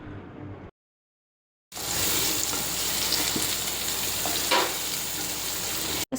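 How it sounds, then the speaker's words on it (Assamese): Onions frying in a pan, browning with steady loud sizzling and crackling after a short silent gap, with an occasional stirring scrape and no voice. "পিঁয়াজখিনি মই অলপ সময় তাৰ লগত ভালকৈ মিক্স কৰি সেইখিনি ব্ৰাউন কালাৰ হোৱালৈ অলপমান ফ্ৰাই কৰি ল'লোঁ।"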